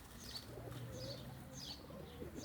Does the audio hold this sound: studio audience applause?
no